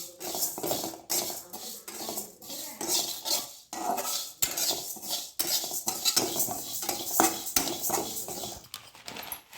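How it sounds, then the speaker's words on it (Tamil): Moong dal lentils being dry-roasted in a pan, with repeated scraping and clinking of a metal spatula against the pan in an irregular rhythm, close and fairly steady, with no talk. "அடுத்தது நான் பாசி பருப்பு எடுத்திருக்கேன். அதையும் நல்லா பொன்னிறமாக வறுத்து எடுத்துடலாம்"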